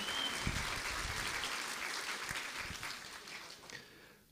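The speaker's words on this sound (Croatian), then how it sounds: "Stoga pozdravite ih jednim velikim aplauzom" An audience applauds at a youth singing festival, the clapping broad and somewhat distant, easing off gradually toward the end.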